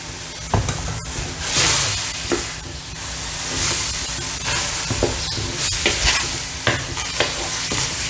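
Chicken meat sizzles loudly in a hot pan while a utensil scrapes and stirs it, with steady hissing and occasional clacks.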